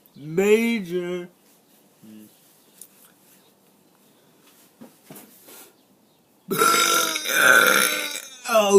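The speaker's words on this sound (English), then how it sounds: "Oh god, that was a burp inside of a burp." A person lets out a long, loud burp, then a sustained, croaky belch with a second burp seeming to break out partway through, separated by a quiet stretch with faint mouth noises and breaths.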